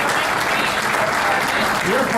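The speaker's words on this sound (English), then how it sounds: "Let's give them a big hand" Dense, steady applause from a crowd honoring students at the Gilbert Road light rail extension opening celebration, loud and continuous throughout, with some voices mixed in.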